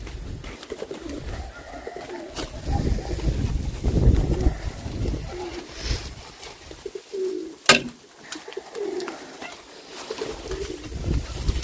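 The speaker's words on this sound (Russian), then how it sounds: "Голуби на воле." Pigeons coo and flutter nearby outdoors on a farm after a hurricane, with wind noise, scattered knocks and a sharp clatter midway.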